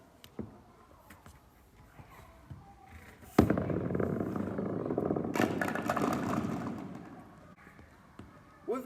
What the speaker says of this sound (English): With my broom and my first shot, I managed to hit over 6 pins.